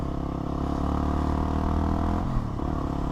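A Yamaha WR 250 supermoto motorcycle runs with a steady, buzzing single-cylinder engine drone close by, then the throttle drops and the pitch dips before picking back up, with some clattering mechanical noise underneath.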